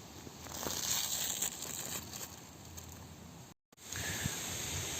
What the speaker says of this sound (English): Second layer is food wrap or stretch foil. I'm gonna remove it as well.